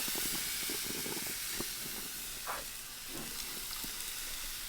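Steady, loud sizzling and hissing of coyote meat cooking on a hot, flaming grill, with faint clinks and scrapes underneath.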